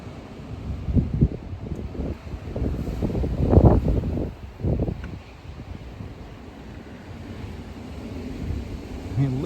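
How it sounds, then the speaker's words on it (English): Hurricane-force blizzard wind gusting near 60–74 mph at a house in Lincoln, Nebraska, roaring continuously with buffeting surges, loudest around the middle, heavy low rumble of wind on the microphone with no speech. "These are 60 mile per hour gusts at least at the house now."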